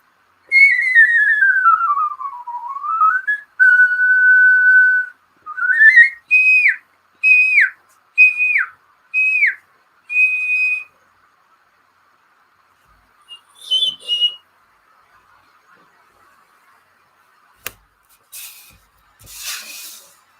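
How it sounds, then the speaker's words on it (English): A homemade whistle is blown alone: a long wavering, sliding tone, then a steady note, then four or five short rising blasts and a held note, followed by quiet and a few faint rustles. "I messed up my own whistle thing."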